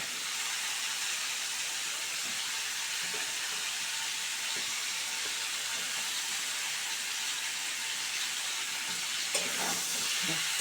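Flat beans with salt and turmeric fry in a pan, giving a steady close hissing sizzle with occasional soft stirring scrapes and clinks near the end.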